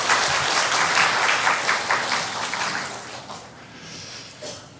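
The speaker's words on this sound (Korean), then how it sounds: "찬양대 우리 박수로 이렇게 감사하다고." A church congregation claps in thanks for the choir after a hymn, a dense burst of applause that swells, then thins and fades out over a few seconds.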